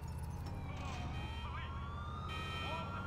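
A police car siren in GTA IV wails in steady rising and falling sweeps, moderately distant, over a constant low traffic rumble.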